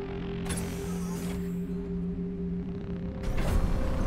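A mechanical bridge extending in the video game Subnautica Below Zero, a sustained creaking, grinding mechanism with steady tonal hum and a couple of brighter scraping swells.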